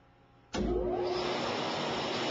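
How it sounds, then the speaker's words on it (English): Pump motor with a MagnaDrive speed control coupling starts abruptly, rising at once into a loud, steady broadband whir and hum that holds evenly. "So the motor's running, and my load shaft is not, okay?"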